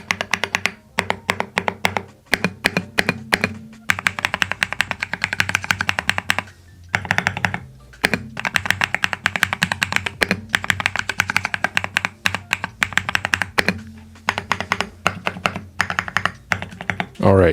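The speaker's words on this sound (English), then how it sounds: "let's do a sound test real quick, shall we?" Womier WD75 wooden mechanical keyboard being typed on, dense rapid clacking in bursts with brief pauses and occasional heavier spacebar thocks, close-miked and loud.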